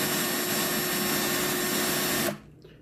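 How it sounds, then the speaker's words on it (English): A drill spins to twist coiled wire held in pliers for a fused Clapton guitar string, a steady close whirring drone that runs evenly and then stops sharply, leaving near silence. "grip down with your pliers, turn your drill."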